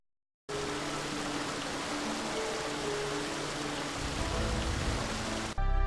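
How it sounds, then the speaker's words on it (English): A waterfall and stream in the Final Fantasy XIV video game give a steady, dense rush of falling water with a faint low tone underneath, continuous and fairly loud until it cuts off near the end. "You can absolutely hear the waterfall in game, which I think just sounds so good."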